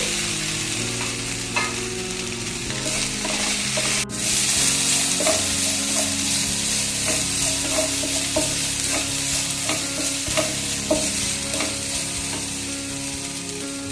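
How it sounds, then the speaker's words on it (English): Mustard seeds, chilies, curry leaves and ginger sizzle and fry in a pan for vada pav, with a steady loud crackle and repeated clinks of a spoon stirring throughout. "we just fry it very well and saute it for some time."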